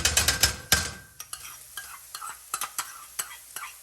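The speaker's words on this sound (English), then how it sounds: "we want to add in our chopped garlic" Chopped garlic hitting a hot pan for mushroom stroganoff, starting with a loud burst of sizzling and clatter, then settling into a quieter crackle with scattered sharp utensil taps and stirring clicks.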